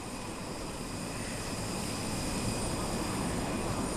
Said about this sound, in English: His plane just touched down.